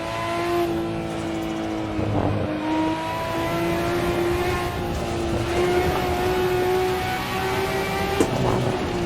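A Nissan Skyline GT-R R34 racing in third gear through a section of the Nordschleife in Assetto Corsa, its engine note a sustained tonal drone that rises and falls with throttle, with brief bumps and shifts along the way.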